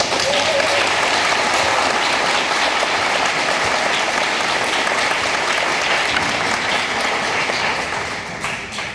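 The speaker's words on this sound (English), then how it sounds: "Give yourselves a round of applause." Graduates and their audience at an adult high school and high school equivalency graduation ceremony applaud in a dense, sustained wave of clapping that fills the hall and fades slightly at the end.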